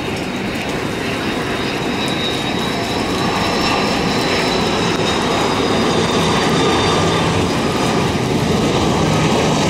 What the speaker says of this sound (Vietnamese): Và bây giờ thì chiếc máy bay đang hạ cánh xuống sân bay Tân Sơn Nhất.